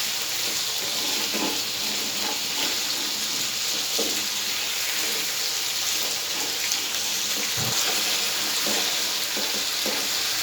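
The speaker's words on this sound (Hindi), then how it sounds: "इनको हल्का सा हम फ्राई करेंगे" Thin slices of daikon radish sizzle steadily in hot oil in a pan, a continuous close frying hiss with occasional stirring clinks and no speech.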